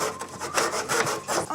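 A hand saw cuts through a wooden batten for a homemade wooden bathrobe rack, its steady back-and-forth strokes rasping close up and loud, with no talking.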